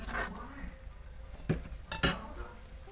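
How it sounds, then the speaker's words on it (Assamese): Fish pieces go into a simmering vegetable curry, giving a low bubbling sizzle with a few sharp clinks of a utensil against the pot, all close and with no talk. "মই এবাৰ ইয়াত মাছ পিচ দি দিছোঁ আৰু মাছ পিচ দি ধুনীয়াকৈ অলপ সময়ৰ কাৰণে উতলিবলৈ দিম"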